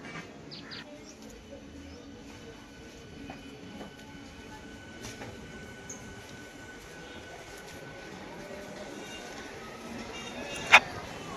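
Low rumbling rattle of a moving train heard from inside the first compartment, steady and quiet, with a brief sharp squeal or clank near the end.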